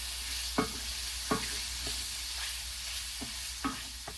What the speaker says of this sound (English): next you want 2 cloves of minced garlic. We're only going to cook that in there for about 30 seconds.